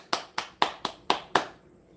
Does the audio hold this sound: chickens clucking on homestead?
no